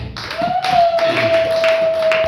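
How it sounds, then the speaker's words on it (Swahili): A church congregation claps in loose bursts during a Sunday service, fairly close, while a sustained feedback-like tone rings steadily underneath. "Hebu mchapie Bwana makofi."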